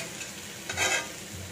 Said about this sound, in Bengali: গ্যাস কমিয়ে ভাজছি